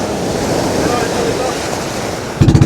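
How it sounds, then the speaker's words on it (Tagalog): Rough sea churns around a small bangka heading toward an island, a close, steady wash of water and wind noise that ends in a few rapid thumping engine-like pulses. "Yung dagat ngayon ay talagang malakas yung alon."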